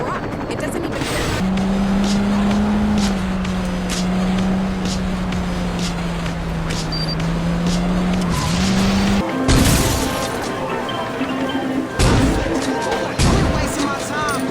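A semi-truck in Saints Row 2 drives with a loud sustained engine drone, then skids with sharp tire squeals and impact noises, while voices talk over it.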